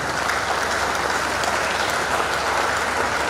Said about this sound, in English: I think we should clap for technology.